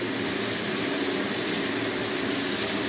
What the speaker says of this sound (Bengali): আলুগুলোকে ওই তেলে দিয়ে ভালো করে সব ভেজে নিই।